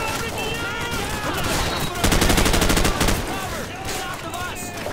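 Rapid automatic gunfire in Call of Duty 4 during an urban firefight, a loud fast rattling burst of shots for about a second amid ongoing battle noise, with voices talking over it.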